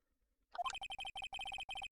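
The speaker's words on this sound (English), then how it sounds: "Phoenix has a Nokia. Oh, that's the music" A Nokia mobile phone ringtone plays alone, loud and close: a rapid, regular series of bright electronic notes in short bursts with brief gaps between phrases.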